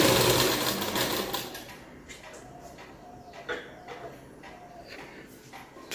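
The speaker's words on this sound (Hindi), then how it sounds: "बड़े प्यार से धीरे धीरे सिलाई कर रही है, छोटा छोटा काम है इसमें," A woman sews fine, small work slowly on a sewing machine in a village home; the stitching whirs loudly at first, then settles into quieter, intermittent bursts of rapid clatter.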